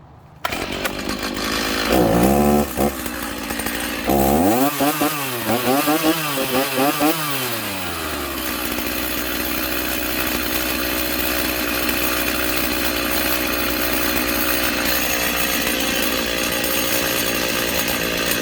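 A Stihl MS 290 chainsaw runs alone with its chain spinning, revving up and down in several surging bursts before settling into a steady idle drone that continues to the end.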